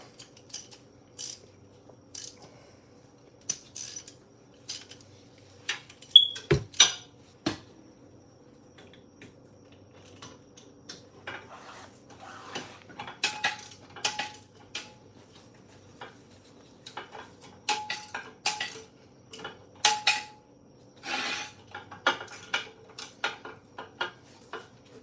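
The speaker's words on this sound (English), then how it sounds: "Now we just need the ratchet." Ratchet wrench working on the rear brake of a 2003 BMW 525i, giving scattered sharp metallic clicks and ratcheting bursts, close by, with clinking tool handling between them and no talking.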